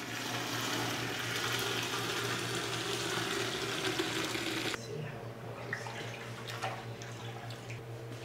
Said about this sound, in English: I gently pour the whey off the curd.